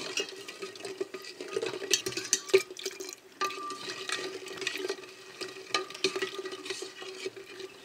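A spoon is worked through a milk and rice flour mixture in a pot, making soft irregular scraping and sloshing strokes at close range with a quiet bubbling underneath.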